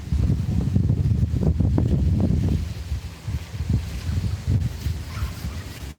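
Outdoor wind during a summer storm with flooding nearby roars in heavy, rumbling gusts against the microphone. It is loud for the first half, then eases into softer, intermittent buffeting, and no one speaks.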